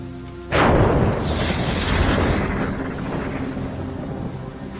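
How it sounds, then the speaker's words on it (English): A loud thunder crack from a lightning strike in the video game Assassin's Creed Rogue bursts suddenly, then rolls and rumbles over steady rainfall for several seconds. "Ben Franklin is basically struck by lightning 3 times before he finally goes down."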